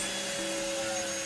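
Vacuum cleaner drawing air out of a storage bag, a steady whining drone with a slight pitch drop partway through, close and brief.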